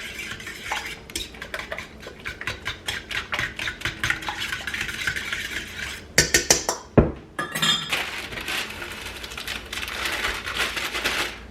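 Cookie bar batter being mixed by hand in a bowl, a spoon or whisk clinking and scraping against the sides in quick repeated strokes, with a louder burst of knocks midway, no talk.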